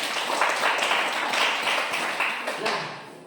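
A classroom of students claps in a brisk burst of applause, dense overlapping hand claps that swell and fade slightly over a few seconds.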